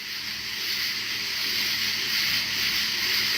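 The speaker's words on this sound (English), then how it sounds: "the sounds of the forest at night time are insane" A dense, loud wall of high-pitched insect buzzing fills a forest at night, continuous, steady and unbroken, with no voices.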